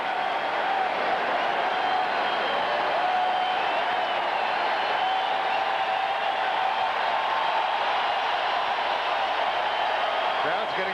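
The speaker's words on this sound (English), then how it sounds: "Crowd's getting rowdy." A rowdy football stadium crowd at a 1998 Seahawks at Cowboys NFL game, a loud continuous roar with no breaks, heard distantly under constant broadcast commentary.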